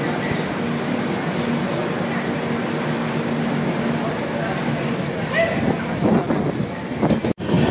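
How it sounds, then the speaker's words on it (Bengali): Brahmaputra Mail passenger train running after leaving Kokrajhar station in the evening, a steady, loud rumble with rushing wind noise throughout, broken by a brief dropout near the end. "সন্ধে 7:34 ট্রেন কোকরাঝাড় রেলওয়ে স্টেশন ছেড়ে তার পরবর্তী গন্তব্য ফকিরগ্রাম রেলওয়ে"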